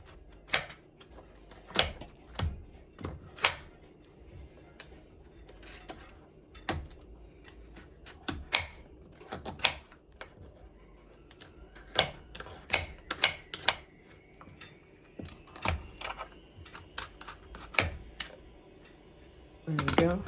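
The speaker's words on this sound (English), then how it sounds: "I'm getting butternut squash peels all over the place, but I'm making progress." A vegetable peeler scraping the skin off a butternut squash, a series of sharp, quick clicking and scraping strokes at irregular intervals, close up and alone without talk.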